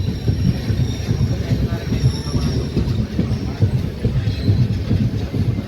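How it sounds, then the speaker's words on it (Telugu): Inside an unreserved coach of the Golconda Express, the train rumbles along with a steady low-pitched drone and rhythmic wheel clatter, plus faint high squeals from the wheels. "చూడండి భయ మన ట్రైన్ అయితే బయలుదేరింది"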